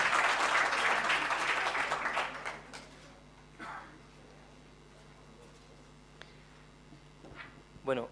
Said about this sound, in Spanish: otro aplauso entonces para el número 31.